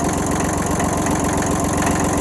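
Diesel engine of a Kubota tractor fitted with a cyclonic air filter, idling in a steady, close, loud rumble with an even mechanical chatter and no talk.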